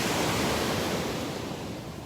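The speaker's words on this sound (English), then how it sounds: "A lot of sea spray in the air with these waves." Ocean waves break on a beach in Naples, Florida, a loud steady roar of surf and spray close by, slowly easing over a couple of seconds with no voices.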